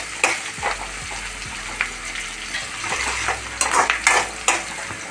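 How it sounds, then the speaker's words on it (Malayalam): Shallots sizzle in hot oil in a pan while a spoon scrapes and clatters as they are stirred, in bursts of stirring over a steady fry. The sound is close by and has no speech. "വെച്ച ചുവന്നുള്ളിയൊക്കെ നന്നായിട്ട് ഫ്രൈ ആയി"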